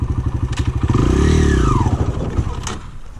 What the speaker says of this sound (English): I'm gonna show you what it sounds like when it's chugging